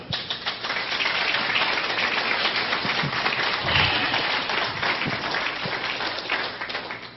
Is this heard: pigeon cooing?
no